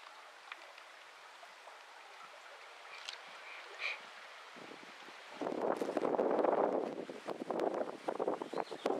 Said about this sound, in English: Wind is getting up